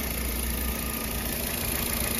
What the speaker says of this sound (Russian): Двигатель работает ровненько, обороты у нас не плавают